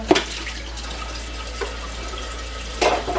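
Running tap water splashes into a kitchen sink as dishes are rinsed, a steady close wash of water with brief louder bursts at the start and end.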